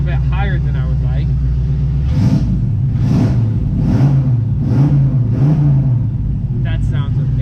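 A Chevy Nova's small-block 327 V8 idles with a lumpy rumble, then revs in about five rising bursts, loud and close, with a voice speaking briefly at the start and end.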